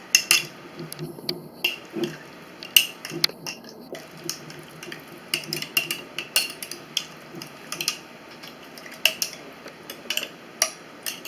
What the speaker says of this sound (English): we take borax and dump it in your jar of jelly and stir it up real good